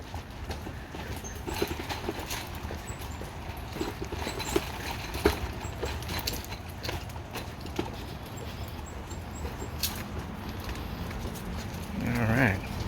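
A child's stroller rolls along a bumpy sidewalk, its wheels rattling in a steady, uneven clatter of small thumps and knocks. A voice can be heard over the rolling, and a louder swell comes near the end.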